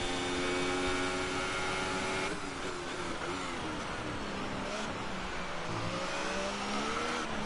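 Race car engine in a Mexican GP racing video game, a sustained high-pitched whine with rising and falling revs as gears shift, loud and continuous throughout.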